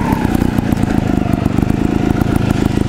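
A Gas Gas TXT trials motorcycle is ridden in second gear over rough terrain, its engine a loud, close, continuous throbbing putter with clattery rhythmic pulses throughout.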